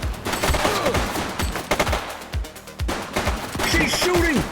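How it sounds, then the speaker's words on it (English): Gunfire in the police video game The Precinct: a rapid fusillade of sharp, loud shots in clustered bursts, with a few brief pauses and ringing tails between volleys. "She's shooting!"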